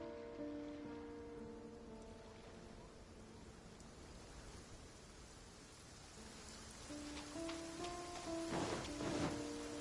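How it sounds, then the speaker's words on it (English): Rain in Genshin Impact, a soft, steady hiss of falling rain, faint and continuous, with game music tones and brief chimes rising over it near the end. "It always rains when I go on an adventure."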